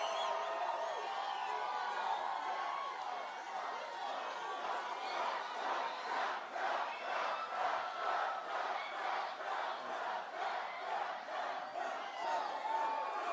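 A large crowd at a Trump campaign rally in Colorado Springs roars and cheers continuously, swelling into rhythmic chanting with scattered whoops, dense and distant-sounding throughout.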